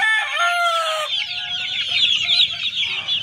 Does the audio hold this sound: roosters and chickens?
yes